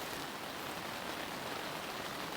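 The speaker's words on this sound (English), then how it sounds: "hope you can hear the rain." Heavy rain drumming on a tent tarp, a dense continuous hiss of drops, steady and fairly close, with no voices.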